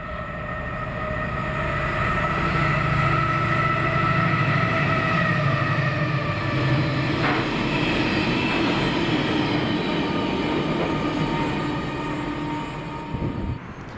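Freightliner class 70 locomotive 70017 hauling a train past Drem station in Scotland, a loud sustained diesel drone with tonal engine harmonics and rumbling wagons, fading away at the end.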